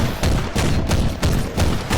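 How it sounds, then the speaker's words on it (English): Gunfire erupts on a grim battlefield in a Warhammer 40k tale of Iron Hands against Death Guard, a dense run of loud repeated shots and blasts with heavy low rumble, bursts landing roughly every third of a second. "Then suddenly, gunfire."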